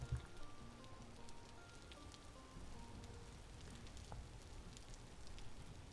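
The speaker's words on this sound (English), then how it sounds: "I think it might be snow raining." Snowy rain falls in the survival video game Vintage Story, a faint, steady patter and hiss of precipitation on surfaces continuing evenly with no talk.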